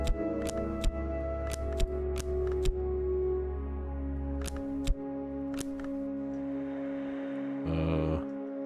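Sparse, sharp clicks from a new computer keyboard, some in quick pairs and others spaced out, sitting over a steady bed of background music with a brief louder swell near the end.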